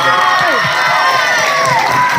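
Cheering crowd at a live night comedy show, a loud continuous roar of many voices with whistles and high shouts running throughout, close and dense.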